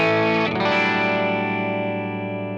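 Electric guitar played through an amp with its brightness control turned fully up, a single strummed chord ringing out and sustaining with a bright, slightly distorted, effects-laden tone that slowly decays, no voices.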